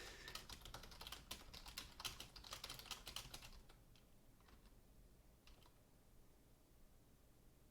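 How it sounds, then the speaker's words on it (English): Someone types on a computer keyboard in quick, irregular bursts of clicking keystrokes for about four seconds, then only a few sparse taps over quiet room noise, all faint and distant. "you'll hear some typing and probably some silence"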